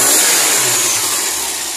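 A Fiat 147 race car engine runs steadily just after starting, a loud close continuous hum with a slightly falling tone and broad hissy roar, with no talking over it.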